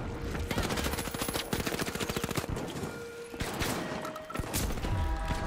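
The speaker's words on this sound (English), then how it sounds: "Why are you shooting me?" Rapid bursts of automatic gunfire in the video game The Finals, loud and close, with dense repeated shots in clusters and brief gaps between volleys.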